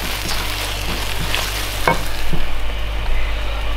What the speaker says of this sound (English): You need to really render the fat, like, the fat out of all of this.